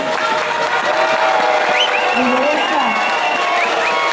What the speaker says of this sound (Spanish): Un fuerte aplauso a la compañera María Teresa Valdera